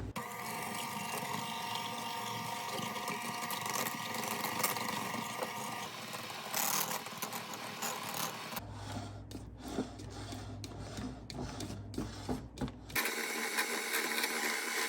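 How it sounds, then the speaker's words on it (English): Electric hand mixer beating cream and sugar for a pumpkin cream pie, a continuous motor whine with rattling beaters against the bowl, changing tone partway through, close and alone. "all I have is a hand mixer, so I'm just going to do it with that."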